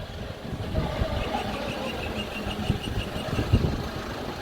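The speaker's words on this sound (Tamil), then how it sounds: "வண்டி வேறு ரிவர்ஸ்லேயே தான் வரணும்." A borewell truck reversing into an apartment compound: a mid-pitched diesel engine runs steadily at low revs, with occasional knocks and clunks, fairly close and with no talk.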